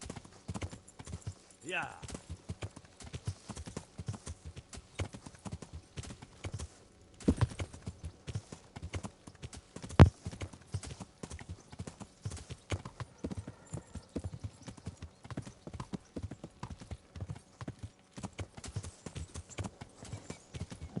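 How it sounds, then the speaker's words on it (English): Horse hooves clip-clop in a steady, even gait while riding in the video game Kingdom Come Deliverance, running continuously as a voice talks over it. "Apologies if this horse travel has been rather boring"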